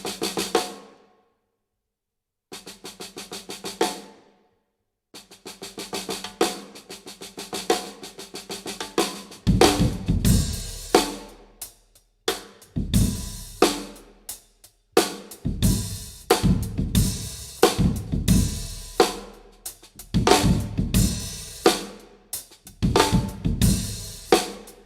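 A Yamaha Recording Custom brass snare drum with a Q-type strainer is played in bursts of loud, crisp rolls and accented hits, separated by brief pauses, with ringing decays, heard up close and alone.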